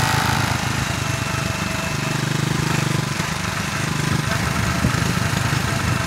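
Motorcycle engine droning steadily at mid revs while riding a rough, muddy unpaved road in Ugbokan, Davao de Oro, with continuous rumble and wind-like roar throughout.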